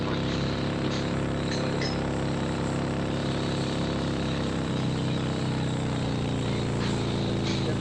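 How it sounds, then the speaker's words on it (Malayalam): Video game transport plane flying over for an air drop, a loud steady propeller engine drone with layered harmonic hum, sustained and unbroken throughout. "വിമാനം പോകണ വിമാനം എയർ ഡ്രോപ്പാണ്"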